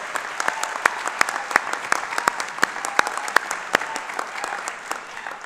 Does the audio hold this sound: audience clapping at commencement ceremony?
yes